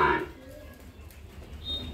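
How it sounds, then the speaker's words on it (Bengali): A young Sahiwal bull calf gives a short moo at the start, then low farmyard rumble and faint background noise continue at a cattle sale. "আরও একটা পাকড়া ষাঁড় বাছুর।"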